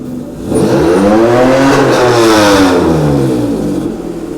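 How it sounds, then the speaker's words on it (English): A custom motorcycle engine revs loud and close, its throaty roar rising and falling in pitch through several sustained throttle sweeps before easing back toward idle. "you can rev it up a bit"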